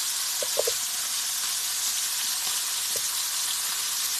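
Ribeye steaks fry steadily in a pan on a stovetop burner, giving a constant, even sizzle with a few faint clinks near the start.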